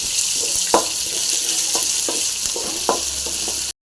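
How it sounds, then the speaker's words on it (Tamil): Onions frying in a pan give a constant bright sizzle, close and steady, with a few soft knocks and scrapes of a stirring spoon scattered through it. "வெங்காயம் போட்டு வெங்காயம் நல்லா ஃப்ரை ஆகுதுங்க"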